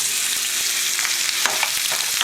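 Onions and garlic fry in a hot pan, a dense, even sizzling hiss throughout with a few faint scraping stirs and small pops close by.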